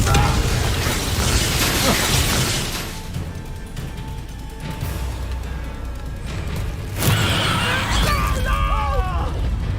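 Confringo blasting spell explosions in Hogwarts Legacy, loud crashing bursts and mechanical clatter in game combat, with a strong hit near the end and a fresh noisy blast afterward, voices faintly mixed in.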